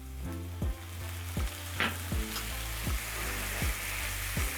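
Tomatoes sizzling with garlic in a hot pan for chicken tikka masala, a steady close fry broken by a series of regular clanking stirs and scrapes of a utensil against the pan.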